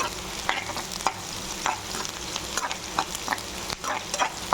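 Garlic frying in a pan until golden for a fish and garlic curry, a steady sizzle with repeated scraping stirs of a spatula at an irregular rhythm, close and clear with no talk.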